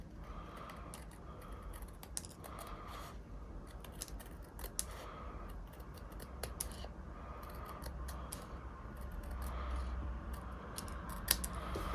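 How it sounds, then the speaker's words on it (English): Paper snips cut through paper, trimming away edge strips during a card-making craft project: a steady run of crisp, close snipping clicks over a quiet background. "take your paper snips"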